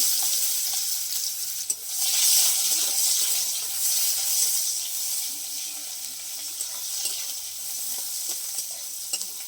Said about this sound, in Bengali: পেঁয়াজ কুচি দিয়ে দিলাম পেঁয়াজটাকে একটু লাল করে ভেজে নেবো